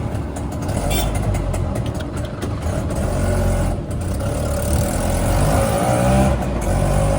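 An auto rickshaw engine runs loud and steady, with road rumble and traffic noise as it pulls away and drives along a street.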